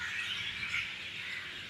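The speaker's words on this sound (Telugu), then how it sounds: "పక్షులు చూడు స్వామి, కాకులు అన్ని రకాలు ఉన్నాయి ఈ ఏరియాలో" Crows and other birds call from trees, a faint mass of chirps and caws blending into a steady distant chorus with no voices.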